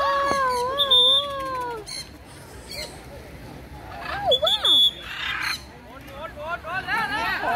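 A bird perched in a tree at the seaside gives repeated squawks and sweeping, warbling calls, fairly close. The calls come in several bursts over steady outdoor background noise, with people's voices mixed in.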